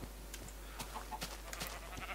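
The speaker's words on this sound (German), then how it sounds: "Und unsere Schafe." Sheep in the video game Minecraft give faint bleats, a few short calls scattered over quiet background hum.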